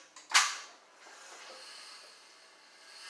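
A shower chair creaks sharply once as someone transfers from it indoors, a brief loud crack followed by a soft lingering hiss and faint mechanical rustle.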